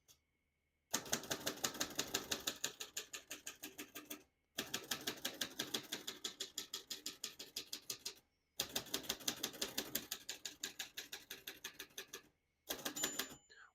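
A 1949 Royal Quiet De Luxe portable typewriter types in rapid, rhythmic bursts of sharp keystrikes, four runs separated by brief pauses, close and crisp with no talking.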